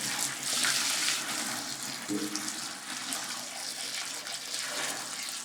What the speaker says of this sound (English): So just going to go ahead and add the water